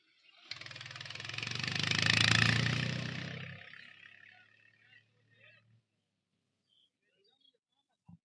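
A tractor engine passing on a muddy, unpaved village road in rural Jharkhand during rain, a loud rumbling roar that swells over a few seconds then fades into the distance, with no talk over it.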